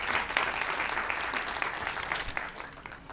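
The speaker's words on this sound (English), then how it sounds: "I want to give them a round of applause for the consistency." An audience at a Black History program's 20th anniversary event gives a round of applause, a steady wash of clapping that carries on for several seconds before fading slightly.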